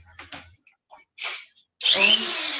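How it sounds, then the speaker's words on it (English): A generic-brand Dremel rotary tool starts with a few short whirring bursts, then runs continuously at max speed as a loud, high, close whine. "I am plugging in the generic brand Dremel"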